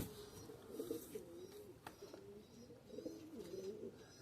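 Spanish Pouter pigeons at a pigeon show, cooing softly in repeated low rolling bursts, a few birds close by over a quiet background without talk.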